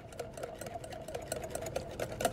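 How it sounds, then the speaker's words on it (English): A mayonnaise and heavy cream dressing for chicken salad being whisked in a bowl: quick, even, rhythmic strokes, fairly faint and close, with no voices. "I'm going to whisk that together. This is our dressing."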